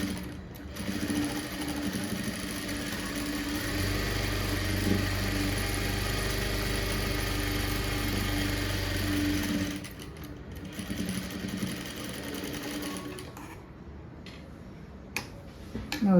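A sewing machine stitches a blouse in a steady, close mechanical whir of rapid needle strokes for several seconds, then slows and stops, followed by quieter handling clicks and a few sharp taps.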